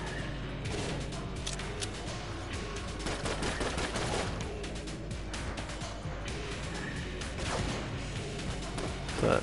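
Eye of the Beholster gun in the video game Enter the Gungeon, firing in continuous rapid rattling shots over a dense, busy wash of game noise for several seconds.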